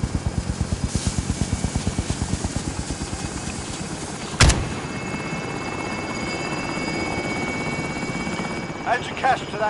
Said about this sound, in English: Helicopter is away.